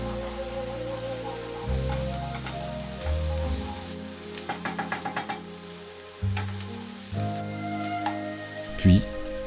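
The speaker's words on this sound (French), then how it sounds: "Nous allons ensuite faire suer l'oignon dans cette même matière grasse pendant 3 minutes." Chopped onion sweating and sizzling in hot fat with soy sauce, a steady frying hiss with stirring scrapes and a brief burst of rapid clicks, close and fairly loud with no talk.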